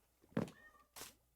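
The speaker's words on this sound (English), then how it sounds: "I don't know if you can hear my cat in the background, just meowing" A pet cat meows twice in the background, a short voiced call followed by a second, breathier one, both faint and distant in an otherwise quiet room.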